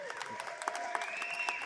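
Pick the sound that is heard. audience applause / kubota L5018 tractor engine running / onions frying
audience applause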